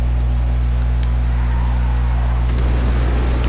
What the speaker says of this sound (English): I guess we gotta get the brake check now.